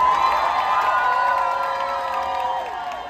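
A big outdoor crowd at a street event in Munich cheers, whoops and shouts together in one loud, sustained roar that eases slightly toward the end, with little applause standing out.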